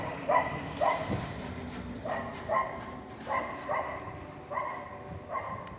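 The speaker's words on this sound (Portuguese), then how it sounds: "Gente, soltaram os cachorros aqui." Several dogs bark in repeated short bursts, some sharp and yelping, at a moderate distance over a quiet room background.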